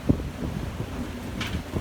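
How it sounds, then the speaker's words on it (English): Strong wind of about 32 knots roars across a sailboat at sea, a steady rushing buffeting with a brief thump at the start and no voices. "32 knots of wind and gust of 31 right there."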